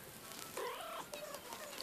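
A mother cat beside the person gives a faint short meow and soft purring, close by and quiet, with no talk over it.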